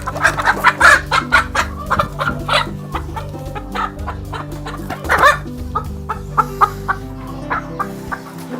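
Local-breed chickens in a farm pen cluck and chatter close by in busy, overlapping bursts, and a rooster crows partway through, with quieter clucks continuing afterwards.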